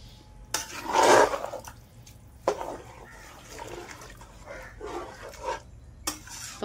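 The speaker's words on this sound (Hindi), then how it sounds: "पानी डाल देते हैं अब इसमें।" Water is poured into a pot of roasted rice while khichdi is being made, a loud splashing burst near the start followed by softer sloshing, clinks and stirring sounds with no talk.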